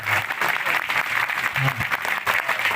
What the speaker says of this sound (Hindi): तो एक बार आप लोग ताली बजा दें